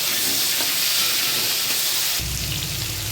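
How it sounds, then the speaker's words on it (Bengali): Potatoes frying in hot oil with cumin in a kadai, a loud, dense, continuous sizzle close up that shifts in tone partway through, with no talking. "আলুটা একটু লাল করে ভেজে নেব"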